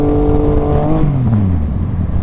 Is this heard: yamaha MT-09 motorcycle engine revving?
yes